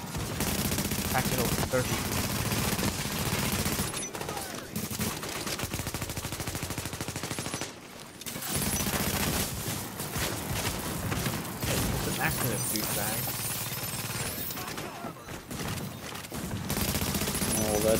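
Gunfire traded with NPC enemies in a tactical shooter: nearly continuous, loud, rapid bursts of automatic weapons with brief lulls, while players talk over the shooting.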